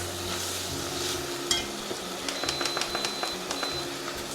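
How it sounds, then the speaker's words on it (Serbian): Chopped onion sautéing in a pot for chicken paprikash, with a low steady sizzle and scattered light clicks and scrapes of stirring, close and moderately quiet. "Sada mu dodajemo crni luk. Takođe ga opet prodinstamo."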